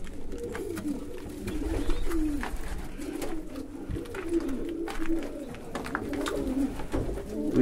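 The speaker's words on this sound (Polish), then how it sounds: "Tu jest cała masa tych gołębi." Pigeons coo in a loft full of young birds, low soft repeated coos overlapping continuously, close and fairly quiet against a steady background hum.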